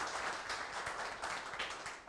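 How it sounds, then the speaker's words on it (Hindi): Sustained applause from a crowd at an office meeting, dense and steady clapping throughout without a break, heard at moderate distance. "इसी बात पे एक बार फिर तालियां हो जाएं"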